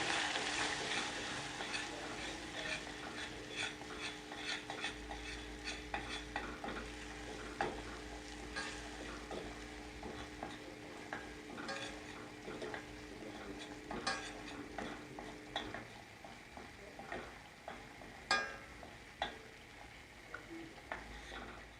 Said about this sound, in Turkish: Unu kavuruyoruz.